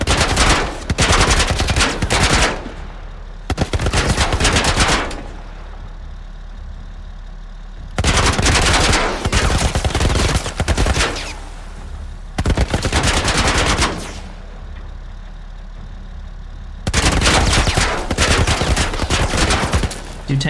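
A tank's machine gun fires in The Last of Us Part 1 as loud, rapid bursts, each lasting a few seconds, separated by quieter pauses of engine hum.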